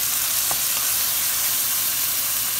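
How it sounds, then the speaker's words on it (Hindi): Chopped onion frying in a little oil in a pan, making a steady, close, continuous sizzle and crackle throughout with no talking. "मैंने प्याज काटा हुआ था, और ऑयल डाल दिया थोड़ा सा। प्याज हल्का सा लाइट ब्राउन होगा"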